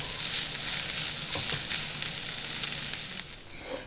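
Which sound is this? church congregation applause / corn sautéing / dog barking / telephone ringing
corn sautéing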